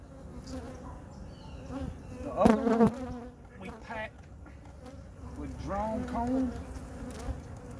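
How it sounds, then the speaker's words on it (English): Honey bees buzz around a hive while queen cells are being installed, a close, wavering hum that swells as single bees pass near, with faint background noise. "Watch out, little bee."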